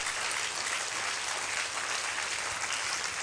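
An audience at a summit event claps continuously in a hall. The dense, even applause holds steady and fairly loud throughout, with no break.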